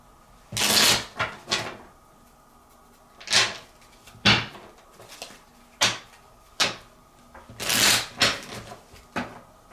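Tarot cards are shuffled in a series of distinct bursts, crisp riffles and slaps repeating at irregular intervals, close and fairly loud with quiet gaps between.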